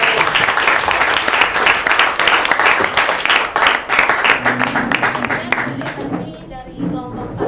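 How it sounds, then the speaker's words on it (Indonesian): Applause from a classroom audience after a student group's presentation: loud, sustained clapping from many hands that tapers off near the end, with voices speaking over it. "Oke, aplaus."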